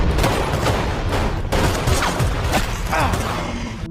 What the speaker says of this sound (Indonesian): Jack malah dicegat oleh Rosa, hingga mereka berdua terlibat baku tembak